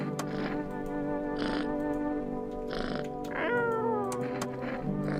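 In the video game No I'm Not a Human, a cat meows several times in a row, drawn-out and close, with one rising, wavering cry near the end and no speech.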